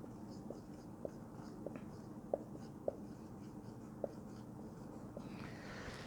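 Pen writing an accounting entry by hand, faint scratchy strokes with a few small taps over a steady low room hum, close and quiet.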